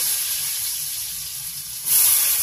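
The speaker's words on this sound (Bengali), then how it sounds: "তো এবারে পেঁয়াজটা দিয়ে দিলাম, পেঁয়াজটাকে লাল করে ভেজে নেব।" Chopped onion spits and sizzles in hot oil in a village kitchen while chicken curry is cooked. The broad hiss holds steady, then swells louder near the end, with a faint low hum beneath.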